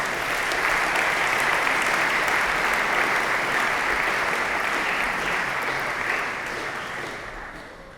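An audience at a Spanish Chamber of Commerce annual general meeting applauds the guest of honour with sustained, dense clapping that gradually fades toward the end.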